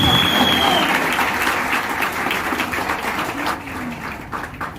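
A school audience claps together after a morning greeting, a dense sustained applause for about five seconds that thins slightly toward the end, with some voices mixed in.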